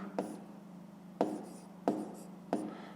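A pen writes numbers on paper, making four short, close scratchy strokes spaced roughly evenly apart over a quiet background.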